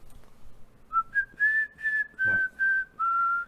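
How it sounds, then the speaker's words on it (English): A person whistles a short tune alone, a string of clear sustained notes rising then settling, with a brief low thump midway and faint background noise before the melody starts. "whistling."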